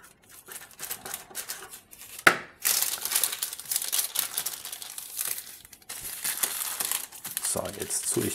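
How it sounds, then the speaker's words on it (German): Baking paper crinkles and rustles close up as a braided quark dough loaf is lifted into a baking tin, with bursts of crackling throughout. "ich nehme einfach nur das Papier und hebe ihn in die Form rein."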